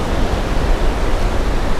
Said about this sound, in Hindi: बस समुंदर की आवाज़ और हम